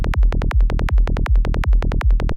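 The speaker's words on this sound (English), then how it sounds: "This is just a session with a simple kick and bass." Simple electronic kick drum and bass loop in a music production session, punchy low thumps repeating in a steady fast rhythm with a sustained bass tone underneath, loud and close with no voices.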